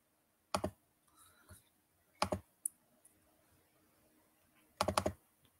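Mouse clicks on a computer while browsing a university questions page, three distinct bursts of sharp clicking spaced a couple of seconds apart, close and fairly quiet, with no talking.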